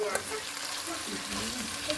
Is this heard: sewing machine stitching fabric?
no